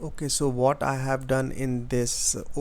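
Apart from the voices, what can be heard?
No everyday noise stands out behind the speech.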